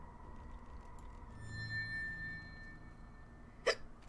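A single sharp hiccup sounds once near the end, short and close, after a quiet stretch with a faint steady tone in the background.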